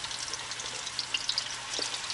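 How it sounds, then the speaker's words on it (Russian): Meatballs fry in hot oil, giving a steady crackling sizzle with bright, fine pops throughout, close and even, with no voices. "Я люблю такой звук. Когда котлетки жарятся."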